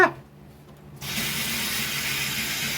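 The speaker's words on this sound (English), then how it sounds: "I should have turned the water on beforehand" A kitchen tap is turned on after a brief quiet moment, sending a steady, loud rush of running water into a sink that continues without letup.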